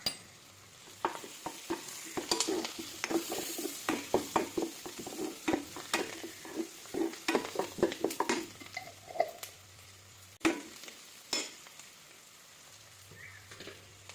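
Onions with turmeric powder fry in a pan while a spoon stirs them, giving soft sizzling under repeated sharp scraping and clinking strokes in an irregular rhythm, quiet and close.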